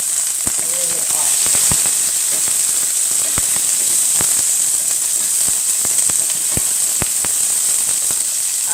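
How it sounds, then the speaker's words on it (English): Chopped onions hitting a very hot pot for a vegetable stew, a strong, steady hiss broken by sharp crackles and pops at irregular intervals, close and loud. "I'm just gonna pour the chopped onion straight into it now."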